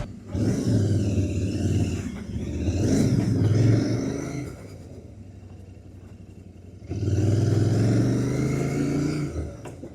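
Royal Enfield Continental GT 650 with stock exhaust, revved at night: two loud, close throaty bursts, the first rising and falling over about four seconds, then a lull of idle, then a second strong rev.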